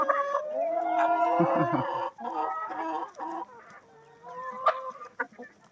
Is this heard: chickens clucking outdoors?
yes